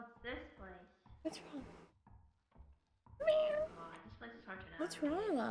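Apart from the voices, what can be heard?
pet cat meowing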